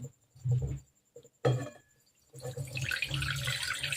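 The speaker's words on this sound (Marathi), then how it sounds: "तर आपण ते पाणी काढून घेऊ" Water poured off freshly washed wheat grain in a kitchen, a couple of short splashes and clinks followed by a longer steady pouring rush, close by.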